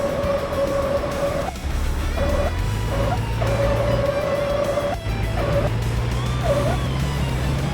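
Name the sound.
car tire sounds in a video game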